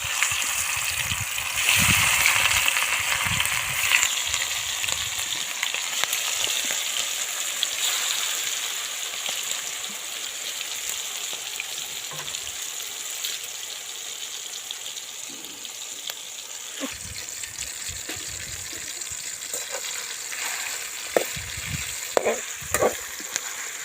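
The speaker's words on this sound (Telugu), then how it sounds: "ఆల్రెడీ ఆయిల్ వేడెక్కింది చూడండి." Chicken pieces fry in well-heated oil, a dense hissing crackle that fills the stretch steadily, with scattered pops and small clatters near the end and no talking.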